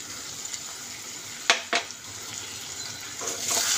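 Mutton sizzles and fries in a pan with ginger garlic paste and tomato, a steady crackling hiss broken by a couple of sharp clinks or scrapes midway.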